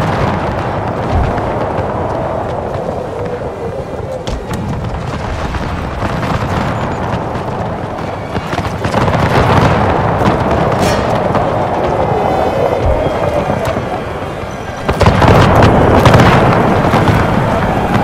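Artillery fire in a Total War: Empire battle: a dense, continuous rumble of booms and blasts rolling on without pause, swelling louder around the midpoint and bursting sharply near the end.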